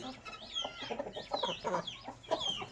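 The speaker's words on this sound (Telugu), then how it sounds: "అదిగో పుంజు చూసుకోండి" A heavy rooster of about five kilograms, sold on a farm alongside hens, clucks in quick, busy bursts close by, with no talk over it.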